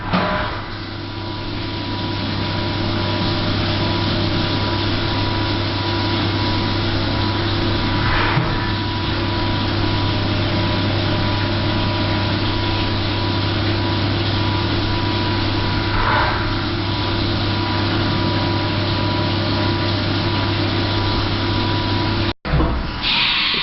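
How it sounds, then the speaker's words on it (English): Machine tapping threaded holes in a cylinder head mounting plate, producing a steady, loud mechanical drone with a constant low hum throughout, a couple of faint clicks, and a brief dropout near the end. "Now going to tap the holes."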